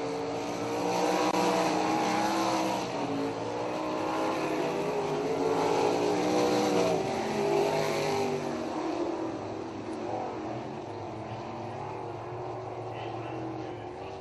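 A field of 360 sprint cars rolls toward the green flag for a final qualifying heat at Brantford, their engines a loud, continuous droning roar that eases slightly toward the end, with an announcer talking over it.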